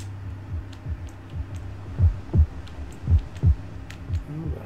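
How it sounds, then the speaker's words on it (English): A video game heartbeat pulses in a steady lub-dub rhythm over a low hum, the thumps growing stronger and louder toward the middle of the stretch before easing slightly. "Oh, the heartbeat's getting louder."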